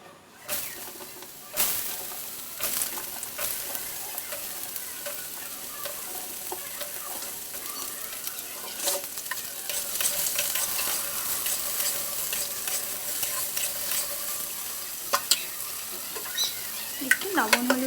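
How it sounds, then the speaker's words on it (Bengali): Potatoes dropped into hot oil tempered with a dried red chilli, a loud splash of sizzle near the start settling into a steady crackle with intermittent stirring scrapes and faint birdsong in the background. "এবার আলুগুলো ছেড়ে দেবো।"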